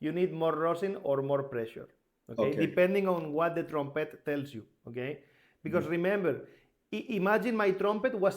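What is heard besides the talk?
No distinct noise like a dog, phone or traffic.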